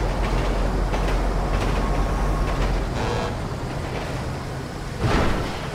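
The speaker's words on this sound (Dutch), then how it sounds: "Trein, hallo trein." A train rolls past in GTA V, a steady loud rumble of rail noise that fades a little partway through. A brief louder burst comes near the end, with no talk over it.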